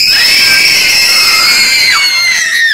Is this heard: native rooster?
no